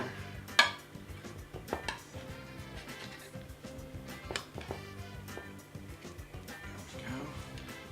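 Gratin dauphinois, a potato side dish, is cut and lifted from its baking dish with a utensil, making soft scraping and clinking taps against the dish, with one sharper knock early on and a voice talking throughout.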